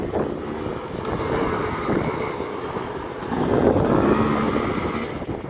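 A KTM 250 XC dirt bike with a 2018 Mikuni carburetor idles and revs. The engine drones steadily, then swells louder for a moment after the midpoint before settling back.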